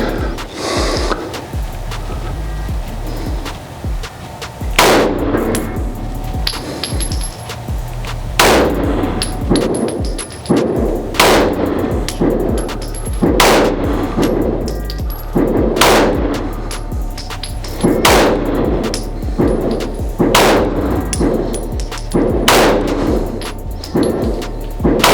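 A Smith & Wesson M&P 9 M2.0 FDE pistol with a 5-inch barrel fires ten rounds at a range, sharp loud reports spaced a few seconds apart in a slow, deliberate rhythm.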